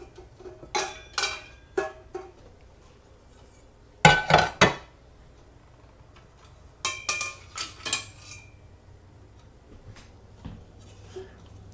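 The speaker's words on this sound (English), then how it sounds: "Another set of skillets I'm going to pull down." Skillets, including 10-inch non-stick pans, pulled down and set out in a kitchen, giving sharp metallic clanks and clatters in a few bursts separated by quiet pauses.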